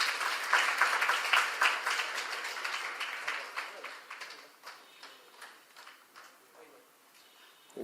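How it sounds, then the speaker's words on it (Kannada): Sustained audience clapping at a Carnatic music anniversary concert, strong at first and gradually tapering off into lighter, uneven applause over several seconds. "ದೊಡ್ಡ ಚಪ್ಪಾಳೆ ಬರಲಿ"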